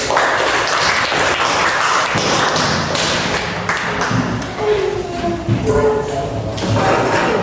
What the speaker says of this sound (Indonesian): Tepuk tangan untuk kelompok kinestetik.